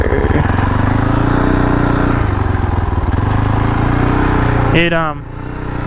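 A Fantic Caballero Flat Tracker 500 motorcycle engine drones steadily and close while being ridden, its pitch stepping up and down through gear changes before a sharp rising rev sweep near the end as it accelerates.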